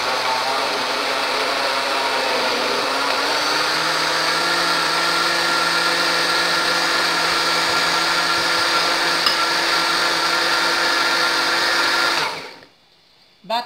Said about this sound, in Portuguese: Aí você vai bater primeiro, vai dar uma batidinha no ovo e no leite condensado.